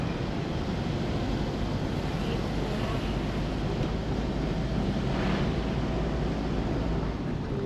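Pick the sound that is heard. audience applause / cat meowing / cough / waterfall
waterfall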